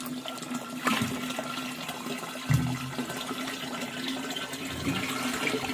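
Liquid pesticide for plum trees poured from a tin into a drum of water, a steady watery pouring and splashing with a couple of louder gurgles, no talking.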